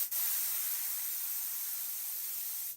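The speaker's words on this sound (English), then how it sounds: "Little test spray." A short test burst of yellow spray paint hits a fishing lure: one continuous, close airbrush-style hiss that starts abruptly and holds steady for a few seconds before cutting off.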